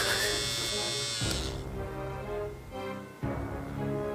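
An electric hair clipper buzzes loudly and steadily for about a second and a half, then a lower hum continues with brief dips and a short gap near the end, in a domestic setting.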